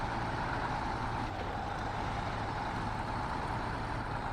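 A heavy Russian off-road truck in SnowRunner drives in a steady, loud engine drone with continuous low rumble, alone, with no talk over it.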